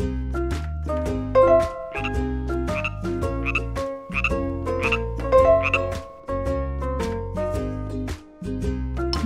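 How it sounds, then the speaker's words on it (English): Green frogs croak in a steady chorus of repeated, loud, tonal calls, with short pauses between bursts and no talking over them. "How many green frogs can you see?"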